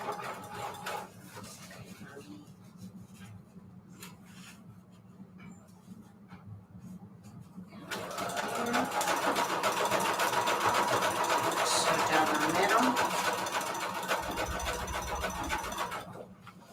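A sewing machine stitches a wide zigzag along a junk journal signature. Light handling clatter comes first, then the motor starts and runs in a loud, steady rapid whir for the second half.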